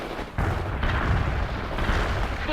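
Gunfire and explosions in the real-time strategy game World in Conflict: loud booming artillery blasts and rumbling detonations, with a sharp burst near the start, sustained dense battle noise throughout.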